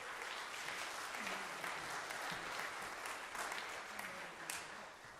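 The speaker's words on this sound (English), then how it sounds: "Let's give Kevin a round of applause." Steady applause from a concert audience fills the hall after a pre-concert talk, dense continuous clapping at moderate level with a faint voice briefly audible beneath.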